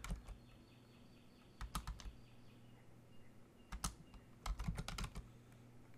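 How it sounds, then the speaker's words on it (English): Close, quiet typing on a computer keyboard as a Linux command is entered, with scattered clusters of sharp key clicks separated by short pauses. "So let's type y folder 1"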